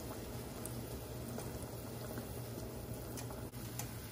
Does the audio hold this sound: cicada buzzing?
no